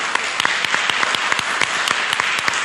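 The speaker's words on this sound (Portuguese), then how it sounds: "Vamos aplaudir o Senhor pela vida da Yara." A Bible-class audience bursts into dense, sustained clapping, loud and close, with individual sharp claps poking through the steady wash of many hands.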